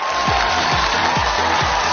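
Studio audience at a television show clapping: dense, steady applause throughout, with regular low thumping beats underneath.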